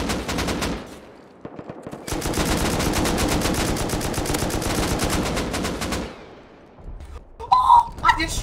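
Rapid automatic gunfire from a first-person shooter video game, a sustained loud burst lasting several seconds with shorter bursts before and after, plus brief electronic game sounds near the end.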